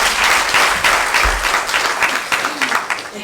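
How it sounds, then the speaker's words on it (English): A second round of audience applause at a stage drama event, steady crowd clapping that fades a little toward the end, with a faint voice briefly underneath. "Can we do that in applause again?"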